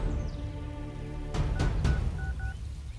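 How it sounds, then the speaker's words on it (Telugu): A telephone number is dialed, with a few soft clicks followed by two short, faint touch-tone beeps against quiet background hiss. "ఎవరికో ఫోన్ చేశాడు"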